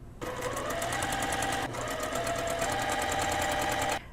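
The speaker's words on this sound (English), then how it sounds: "So we top stitch over that 1/4 inch basting stitch." Close, loud sewing machine running steadily while top stitching over a 1/4 inch basting stitch on a puffy shoulder sleeve, a continuous rapid whir with a brief dip midway, no talking.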